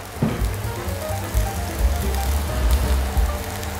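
Garlic and zucchini fry in a pan with a close, continuous crackling sizzle and scattered pops, with no talking.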